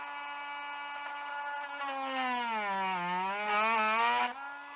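A power drill boring a hole, a steady whining motor tone that dips in pitch under pressure and rises again, fairly close and alone.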